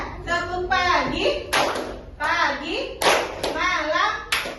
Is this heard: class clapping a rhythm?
yes